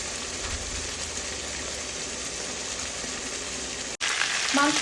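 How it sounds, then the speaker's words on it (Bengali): Chicken meat for a curry sizzles steadily in a pan, a soft continuous crackle at close range, with a brief cut and clatter near the end. "মাংসটা সম্পূর্ণ ভাজা হয়ে গেছে।"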